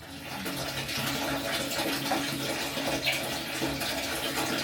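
Water runs steadily into a catamaran's tank that is nearly full, a constant broadband gush with a faint higher splash partway through, close and continuous with no talking.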